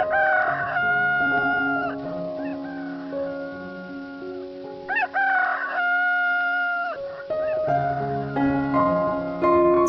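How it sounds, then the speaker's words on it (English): A rooster crows loudly and close by in several long, wavering calls broken by short pauses, standing alone with no speech around it. "Rooster."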